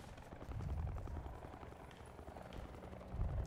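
A helicopter in a battle royale shooter video game thumps with a steady, muffled low rotor chop throughout, moderately distant and continuous.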